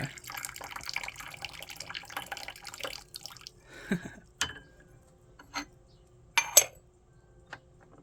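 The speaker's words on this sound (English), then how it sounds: "Let's pour from high." Black tea poured from a height into a small gongfu vessel, a quiet trickling stream at first that breaks into scattered splashes and a few final drips, close and soft.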